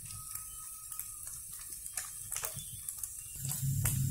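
Paneer frying in a pan, a faint steady sizzle with scattered soft ticks and crackles, swelling slightly louder near the end.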